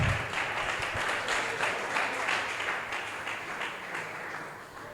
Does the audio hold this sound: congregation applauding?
yes